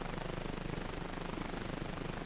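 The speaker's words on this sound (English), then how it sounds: "A military helicopter, the Piasecki, or Flying Banana" A Piasecki tandem-rotor military helicopter, the Flying Banana, heard on archival 1952 film as a steady, rapid rotor chop with a broad, rough roar and even rhythmic pulsing, no voices.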